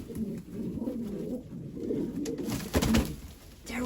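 A newly hatched pigeon chick in a pigeon loft gives soft, close cooing and faint peeping calls in short bursts, with a brief louder call near the end.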